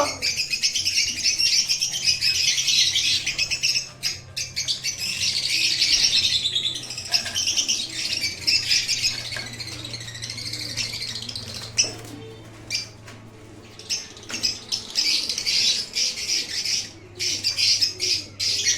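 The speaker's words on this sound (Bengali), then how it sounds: "প্রত্যেকটা পাখি দেওয়া হচ্ছে না দেখে বাবুর একটু অভিমান হয়েছে" Pet breeding birds chirp and squawk close by in a steady, busy chorus of bright tweets with occasional cooing and wing flutters, continuing throughout without talk.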